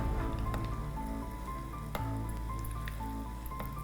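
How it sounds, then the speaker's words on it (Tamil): Hot oil spooned repeatedly over fried kozhukattai dumplings in a pan, giving a steady close sizzle with soft wet drips and splashes throughout and no talking. "எண்ணெயை எடுத்து எடுத்து மேலே ஊற்றுங்க"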